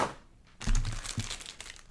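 Packing tape is peeled and torn away from the packaging of a Corsair K65 RGB gaming keyboard, a brief quiet rustle followed by two louder crinkling, ripping bursts close by, with no talking.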